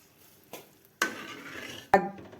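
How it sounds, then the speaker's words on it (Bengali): A spoon stirs ghee, cashews, raisins and milk in a pot. Three separate metallic scrapes and clinks ring out against the pot, close and fairly quiet, with no talking. "এখন একটু নেড়ে দিব।"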